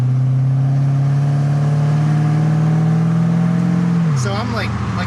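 A BMW Z3 M Roadster fitted with an LS2 V8 accelerates hard from inside the cabin, a loud deep engine drone climbing steadily before a shift, with speech heard over the engine near the end.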